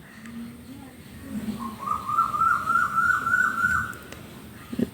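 A bird calls outdoors in a drawn-out, wavering series of notes, moderately near, over low background noise.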